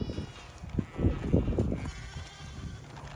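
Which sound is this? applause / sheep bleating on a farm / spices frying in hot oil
sheep bleating on a farm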